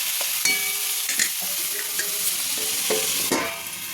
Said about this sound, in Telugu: నెక్స్ట్ టమాటో ముక్కలు కూడా వేసేస్తున్నాను.